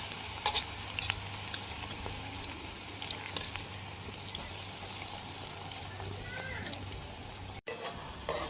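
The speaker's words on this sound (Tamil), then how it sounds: "இப்படியே நாங்கள் எல்லாத்தையும் பொரிச்செடுப்போம்" Brinjal and chickpeas fry in hot oil with a constant, close crackling sizzle, punctuated by a few clinks and stirring sounds near the end.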